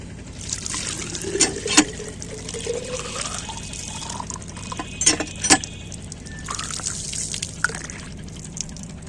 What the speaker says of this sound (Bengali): এখন চাপ দিয়ে দেখলাম পানি আছে তার মানে আমি পানিটা লোড করবো